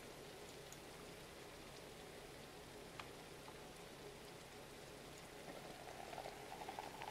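Steady rain in the driving video game Drive Beyond Horizons, a dense, even hiss of drops pattering on surfaces, soft and continuous with a few brighter patters near the end.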